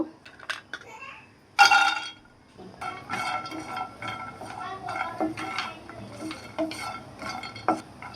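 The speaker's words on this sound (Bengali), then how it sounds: "এখন বাদামগুলো ভেজে নিব।" Nuts being fried and stirred in a pan for payesh, with a utensil scraping and clinking against metal and a soft sizzle close by, while someone talks over it.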